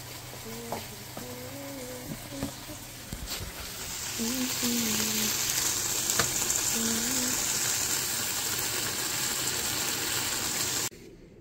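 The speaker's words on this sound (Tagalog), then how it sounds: "Magsasangag naman ako ngayon. Mas madami pa yung bawang kaysa dun sa kanin." Garlic fried rice sizzling in a pan, a steady close frying hiss that swells midway, with a voice humming a tune over the first half and a brief clatter of utensils.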